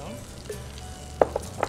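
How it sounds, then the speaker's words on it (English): Pasta is tossed with pesto and heirloom tomato in a hot pan, giving a soft sizzle underneath several distinct clacks and scrapes of utensils mixing the food. "Throw a little bit of pesto in here, enough to allow us to toss this around and mix it up."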